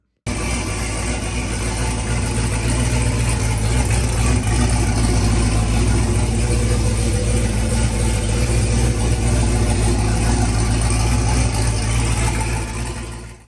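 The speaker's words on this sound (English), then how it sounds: "So happy to have the car running again." A car engine runs after a VS Racing turbo rebuild, a loud, dense and steady drone with deep low rumble and broadband roar that holds evenly for about thirteen seconds before cutting off, no voices.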